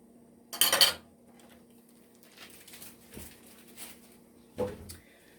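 A metal fork scrapes and clanks against a pan of boiling ramen noodles in a few short bursts, with quieter stirring and bubbling in between.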